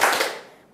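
Students in an Indonesian classroom do a patterned class clap, one quick burst of hand claps that is sharp and close, then fades over less than a second with no voices.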